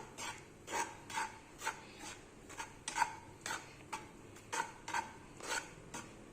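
Gram flour being lightly roasted in a pan on the stove, with repeated soft scraping and rasping strokes of a utensil against the pan in an uneven rhythm, faint and close, with no talk.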